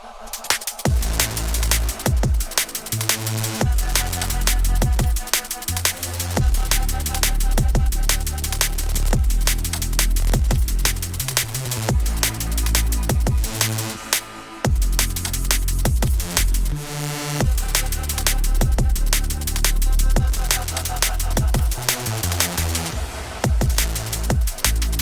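Dark liquid drum and bass drop produced in FL Studio, with dense broken drum hits, deep sustained bass and layered melodic pads, loud and continuous with a brief break midway.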